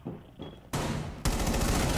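Gunfire in Rainbow Six Siege erupts in two sudden loud bursts, the second even heavier and sustained like a rapid volley, after a quieter stretch of soft shuffling.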